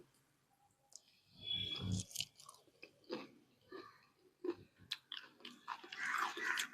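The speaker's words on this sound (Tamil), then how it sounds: "ஒன்று எடுத்து அப்படியே கடிச்சு சாப்பிட்லாம் கடிச்சு சாப்பிட்லாங்க" Someone bites into and chews a crispy fried onion bonda up close, with repeated crunches and wet chewing sounds in a quiet setting.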